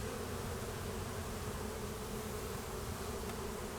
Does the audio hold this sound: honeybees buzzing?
yes